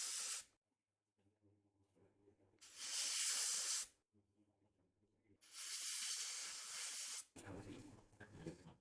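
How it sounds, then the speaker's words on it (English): Compressed air blasts through a Sharpie used as a miniature spray can, two loud sustained hissing bursts of about a second and a half each separated by quiet pauses, close and sharp. "this trick with Sharpie and compressed air to give you a miniature spray can"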